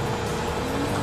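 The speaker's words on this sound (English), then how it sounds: "Now, that doesn't sound good. Hey, that's the engine, man." A sputtering, failing boat engine in GTA 5 gives a steady rough mechanical rattle and drone that stays loud and close throughout the short stretch.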